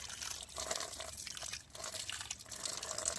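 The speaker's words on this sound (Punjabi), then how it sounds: "ਇਹ 'ਚ ਹੁਣ ਆਪਾਂ ਥੋੜਾ ਜਿਹਾ ਪਾਣੀ ਮਿਲਾਵਾਂਗੇ ਜ਼ਿਆਦਾ ਨਹੀਂ ਪਾਣੀ ਪਾਉਣਾ ਥੋੜਾ ਜਿਹਾ ਪਾਵਾਂਗੇ" A small amount of water is poured onto stale rotis to soften them into chicken feed. It makes a quiet, steady trickle and splash with no voices.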